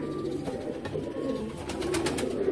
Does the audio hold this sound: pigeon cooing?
yes